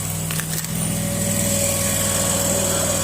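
Drill boring through the sheet-metal wall of an old filing cabinet in a home workshop, a steady, loud, high-pitched whine that runs continuously with no talk.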